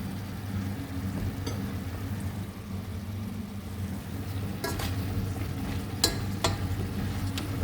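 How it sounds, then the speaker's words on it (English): Food being stirred in an oiled frying pan, a low, quiet sizzle under a steady hum with a few sharp scraping clicks of the utensil near the end, no talk. "There's a bit of a stir."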